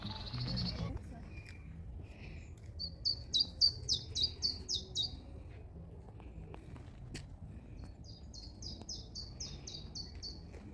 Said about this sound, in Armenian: Տիտիկների ծլվլոցը ինչ հաճելի է։